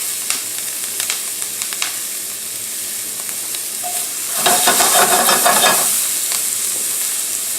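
Onions frying in a pan just after seared beef was removed, with heat lowered: a constant loud sizzle with scattered scraping stirs, swelling into a louder burst of crackling near the middle before settling back.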